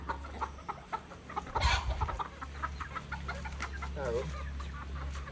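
Frightened chickens cluck softly after being chased, a scattered run of nearby clucks and short calls over a low background hum, with a brief louder disturbance in the middle and faint voices now and then.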